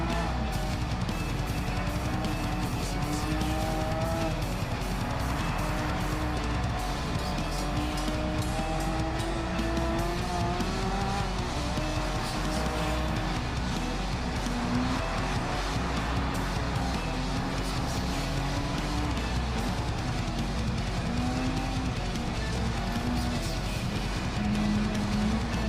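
A car driving on snow in Gran Turismo 7, a steady engine drone with gear-change pitch shifts running continuously at an even level throughout.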